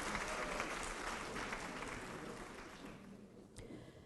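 Applause from the audience at a graduate master's hooding ceremony, a dense sustained wash of clapping from a large crowd that holds steady, then gradually thins and softens toward the end.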